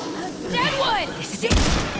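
Gunfire in the Remnant II video game: a sharp, loud shot bursts out near the end, following a stretch of game sound effects and voices talking.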